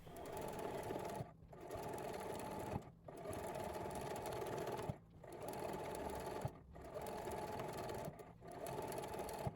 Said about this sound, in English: listen carefully to the sound of the sewing machine